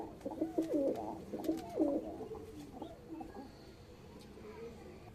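A male fancy domestic pigeon cooing close by at home, several soft rolling coos in the first two seconds, then quieter background ambience.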